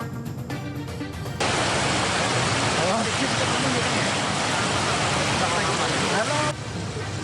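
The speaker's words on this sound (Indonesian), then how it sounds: "Jebolnya tanggul membuat air mengalir deras ke jalan dan permukiman warga." Floodwater rushing through a breached embankment of the Cabean River in Demak onto a road and homes, a loud continuous roaring wash that starts abruptly and holds steady before cutting back, with talk at the start.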